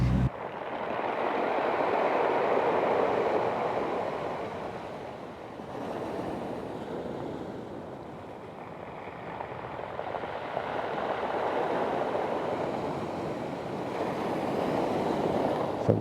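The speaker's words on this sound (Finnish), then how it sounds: "Vitsi mitkä aallot." Large sea waves crash and surge along the northern Norwegian coast near Havøysund, loud and continuous, with gusting wind buffeting the microphone as the surf swells and recedes in slow cycles.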